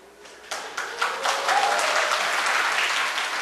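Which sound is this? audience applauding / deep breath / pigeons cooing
audience applauding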